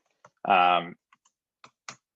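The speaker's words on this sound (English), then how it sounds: "I apologize in advance already for my horrible typing." Clicks of computer keyboard typing near a developer's desk, a few sparse key taps scattered around a brief burst of voiced sound.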